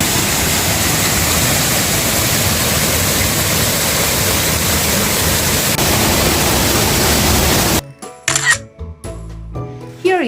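Roaring waterfall at Gusong Falls, a loud, steady broadband rush of falling water that cuts off abruptly, followed by a few scattered clicks and knocks.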